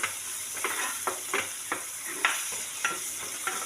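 Green chili, garlic and ginger sauté in a hot pan for an egg roast, a steady close sizzle broken by repeated scraping stirs about every half second, with no voices.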